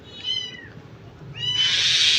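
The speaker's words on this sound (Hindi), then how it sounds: "देखिए बिल्ली बच्चा लेके जा रही है अपना" A mother cat meows twice in drawn-out, high calls nearby while carrying her kitten, the second cry followed by a loud hissing rush of noise.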